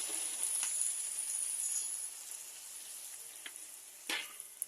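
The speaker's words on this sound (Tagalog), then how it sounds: "Lagyan na ngayon tayo ng toyo." Soy sauce poured onto string beans and fried tofu in a hot pan, a soft steady sizzle with a few brief sharper hisses and stirring scrapes, fairly quiet and with no talking.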